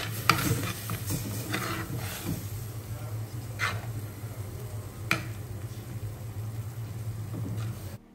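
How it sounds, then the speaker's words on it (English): Chopped tomatoes sizzle softly in a pan for Kerala-style lobster curry, with occasional stirring scrapes and clinks over a low steady background hiss. "Now it's time to add the chopped tomatoes."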